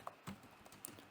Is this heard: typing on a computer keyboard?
yes